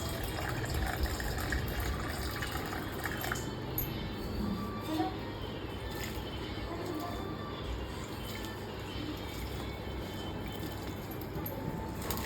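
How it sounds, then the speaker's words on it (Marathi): Water pours steadily onto the soil of a Navratri ghat kalash setup at home, a continuous close gushing, filling sound that runs without pause. "त्याच्यानंतर पाणी टाकायचं, थोडं थोडं थोडं पाण्याचं शिंपी घालायचं"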